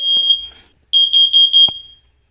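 A hard-wired smoke detector sounds its test alarm: a loud, piercing high beep, a brief pause, then four rapid shrill beeps close to the microphone before it stops.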